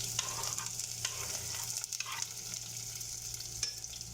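Garlic and ginger fry in a pan for a kachiya moru, giving a steady, close hiss of oil with occasional louder sizzling bursts and faint stirring, with no voices.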